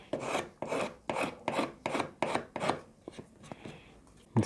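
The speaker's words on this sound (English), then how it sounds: "I'm just going to take a card scraper and very gently I'm going to take that excess glue off." A card scraper shaves excess dried glue from a guitar headstock with wenge and maple, giving a steady series of about seven close rasping strokes followed by a few lighter scrapes.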